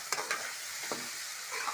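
Green beans seasoned with chili powder fry in a pan, a quiet continuous sizzle broken by a few short scraping stirs, with no voices.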